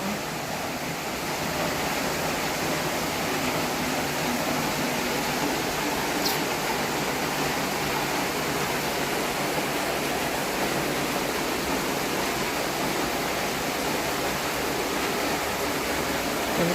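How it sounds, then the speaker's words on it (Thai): Heavy rain pouring outside a hillside house in Patong, Phuket, a dense, unbroken hiss that stays even and loud throughout with no voices. "ฝนตกหนักมากเลยค่ะ"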